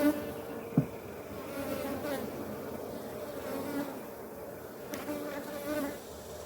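Honey bees buzz around an opened cutout colony during a hive inspection, a dense, droning hum with individual bees swelling close by now and then.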